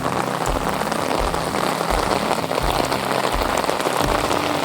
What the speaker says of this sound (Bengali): ওরে বাবা এই কি বৃষ্টি শুরু হলো গো